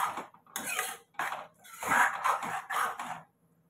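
Spices stirred in a cooking pan with a spoon or spatula, in a series of close scraping strokes separated by brief pauses, with no talk.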